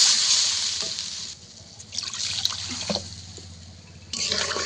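Mustard paste mixed with water is poured into a pot of simmering sour fish curry with taro, a close splashing pour in bursts separated by quieter gaps.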